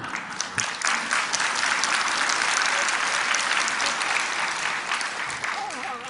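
A church congregation at a lecture on the Book of Revelation breaks into loud, sustained clapping that fills about six seconds, with a voice speaking over it.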